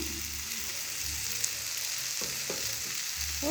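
Bottle gourd curry with green chili paste stirred in a hot pan, a steady close sizzle of frying with scraping stirs and a few soft taps, no one speaking.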